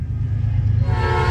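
CN freight train 2312 on the Q198 passing at Ladysmith, a heavy low rumble of the locomotive and cars, joined by a bright sustained horn tone toward the end, close and loud.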